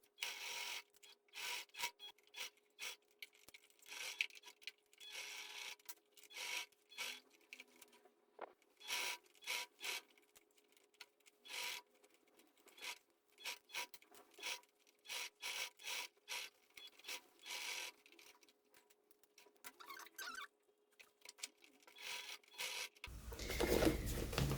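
A domestic sewing machine stitches all the way around a men's toiletry bag with a front pocket, running in short close bursts of rapid whirring separated by brief pauses, with no talking and a loud noise right at the end.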